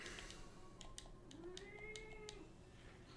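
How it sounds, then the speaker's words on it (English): A cat meows softly in a quiet room with rising and falling cries and faint clicks around them, heard alone without talk. "The cat is allowed to get out. Please. Please leave, cat."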